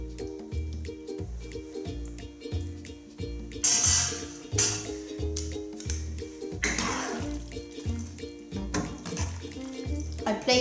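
Cooked pasta water poured into tomato sauce, a soft splashing and trickling pour under steady low kitchen rumble, close by with no talking.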